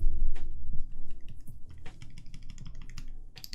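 A mechanical keyboard fitted with Gateron Ink switches typed on up close, a quick run of crisp clacking keystrokes with a few heavier key presses, and no voices.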